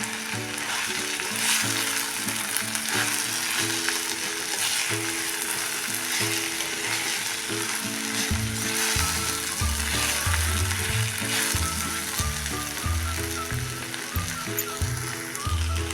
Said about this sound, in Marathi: हळद दही आणि जिरेपूड हे सगळे टाकून घेऊया तिखट कसं तुम्ही तुमच्या आवडीप्रमाणे कमी जास्त करू शकता त्यात आम्ही परतूया